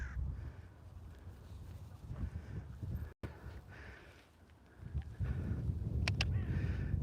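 Crows cawing outdoors in Edinburgh during a walk with dogs, with a few distant harsh calls over wind and ambient outdoor noise, fairly faint, with no talk.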